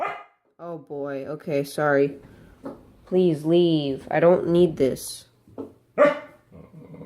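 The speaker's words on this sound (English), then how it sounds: "That's my dog." A dog barks and growls indoors in several close bursts while a person talks in between and over the barking.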